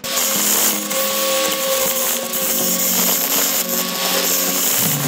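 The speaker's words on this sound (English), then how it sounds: "I didn't know how these records were gonna turn, but I've just started to cut in to one here." An old vintage vinyl record is cut on a wood lathe, giving a loud continuous scraping, whirring roar with steady tonal hum and gritty tool chatter, no voices.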